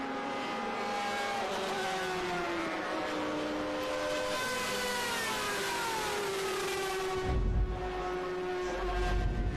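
A race car engine at VIR circuit screaming past at high revs, pitch climbing and dropping through gear changes, then a rumbling burst as it passes close near the end.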